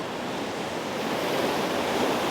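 Sea waves wash against a rocky shore during lure fishing, a steady, broad roar of surf with wind, continuous and fairly close, with no voices.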